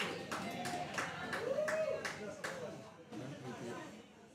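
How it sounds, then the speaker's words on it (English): Faint clapping from spectators at a lawn bowls match, scattered claps under a commentator's voice and quiet crowd chatter. "I don't need the applause sound effect."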